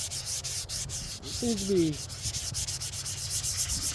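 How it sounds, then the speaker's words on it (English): Sandpaper rubs steadily over an Estes Star Orbiter model rocket body in small circular strokes, a continuous close scratchy hiss under a brief spoken phrase. "That's what they say you're supposed to do, is kind of go in circles when you're sanding."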